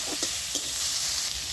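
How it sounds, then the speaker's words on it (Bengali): Cumin and coriander seeds fry in a pan, giving a steady close sizzle with a few light stirring scrapes, heard alone without talk. "অল্প করে একটু জিরা দিয়ে দিচ্ছি, অল্প একটু ধনিয়া দিয়ে দিচ্ছি। এই উপকরণগুলো সব আমি হালকা করে ভেজে নেব।"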